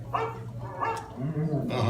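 An animatronic dog on Disney's Carousel of Progress ride gives a few short, soft barks amid the show's recorded scene, with voices and ambient room sound mixed in.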